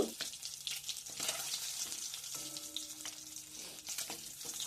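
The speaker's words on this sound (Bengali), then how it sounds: "ডিমটাকে একটু হালকা করে ভেজে নিই" Eggs fry in oil in a pan, a close, steady sizzle and crackle with occasional stirring scrapes and light clatter, heard without talk.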